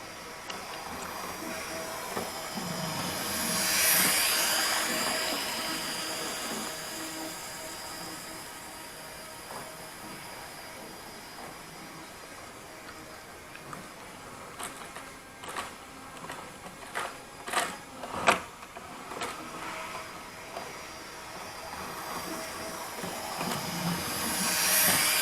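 Model railway trains run along a layout's track, giving a steady hiss and rolling rumble with scattered clicks and squealing wheel sounds near the middle, moderately quiet throughout with no talking.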